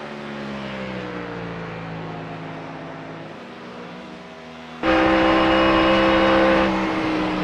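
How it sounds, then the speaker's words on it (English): A Ford Mustang sports car being run hard in a championship race, its engine droning steadily at high revs before a sudden louder, harsher surge as it passes close by, with no talking. "Love the sound of the Mustang as it is being run hard"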